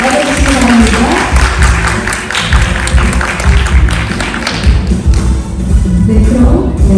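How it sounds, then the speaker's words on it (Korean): An audience at a Busan webtoon festival conference applauds to welcome the arriving speakers and authors, loud close clapping mixed with thumps and shuffling in a hall, tapering slightly toward the end. "여러분 박수와 함께 맞아주시기 바랍니다."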